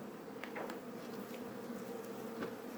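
Honeybees fly around a hive in winter, giving a continuous soft buzzing drone with a few louder passes as individual bees come close, fairly faint overall with no talking.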